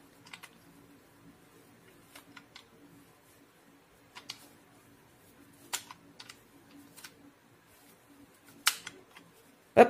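Addi knitting machine cranked by hand while knitting I-cord: quiet, scattered plastic clicks and ticks at an irregular pace, close and faint, with a few sharper clacks toward the end.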